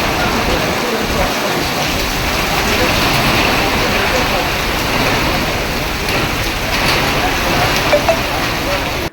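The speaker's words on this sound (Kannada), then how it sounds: "ಭರ್ಜರಿಯಾಗಿ ಸುರಿಯುತ್ತಿರುವ ಮಳೆಯಿಂದ ಜನಜೀವನ ಅಸ್ತವ್ಯಸ್ತವಾಗಿದ್ದು" Heavy rain pours steadily across the Hosanagara area during the Kritika monsoon rains, a dense unbroken hiss of water hitting surfaces that holds loud and even throughout with no voices.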